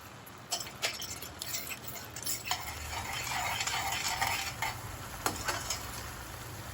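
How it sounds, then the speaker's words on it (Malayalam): Tomato sauce for prawn pasta cooking in a pan, with a soft continuous sizzle and occasional light scrapes and taps of a utensil stirring it, fairly quiet and with no talk. "ഈ ടൊമാറ്റോ ഒന്ന് മൂത്ത് വരുന്നവരെ ഒന്ന് ഇളക്കി കൊടുക്കാം."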